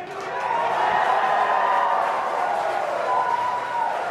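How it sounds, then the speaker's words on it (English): A rocket launch control room fills with loud, sustained cheering from a crowd of staff, a steady roar of voices over a few seconds. "you can hear some really loud cheering in the room"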